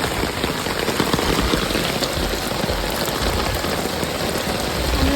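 Heavy rain pours steadily at Anuradhapura, a dense, loud, unbroken hiss of drops hitting surfaces nearby with no voices.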